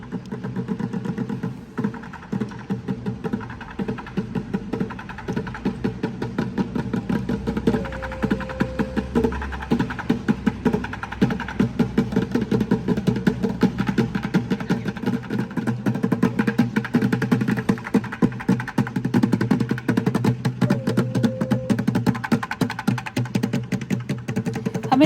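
Street performers drum on plastic buckets beside a road in Chicago, a rapid, continuous stream of sharp percussive hits over a city traffic hum, heard from a short distance.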